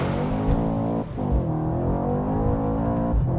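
Mercedes-AMG C63 engine and exhaust under way, a loud close sustained growl with rising and falling pitch sweeps as revs climb and drop between shifts, with no talking over it.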